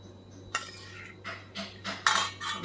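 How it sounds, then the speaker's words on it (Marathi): Spice mix stirred into raw mango pieces for pickle, heard as a few close, irregular scraping clinks of a metal spoon against a bowl with short pauses between. "आपण हा मसाला ह्या फोडींवरती ओतणार आहोत चांगला हलवून घेऊया"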